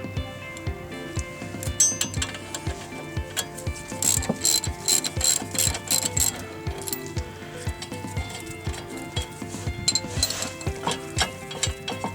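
Repeated ratchet clicking while brake caliper carrier bolts are loosened and removed during a brake rotor and pad replacement, steady rhythmic bursts of close, crisp pawl clicks with metallic clanks between strokes.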